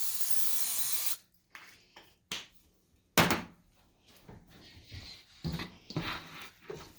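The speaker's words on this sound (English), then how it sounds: "Spray your bread pans." Cooking spray hisses onto bread pans in a home kitchen, one steady burst of about a second up close, followed by softer clatters and knocks of pans being handled.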